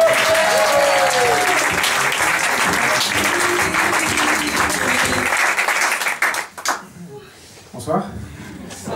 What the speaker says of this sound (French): Applaudissements pour Manique